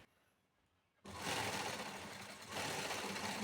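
An electric sewing machine stitching a small seam joining a lining blouse's shoulder at the neck, starting abruptly after a quiet second into a fast, steady whirring run that briefly dips and resumes.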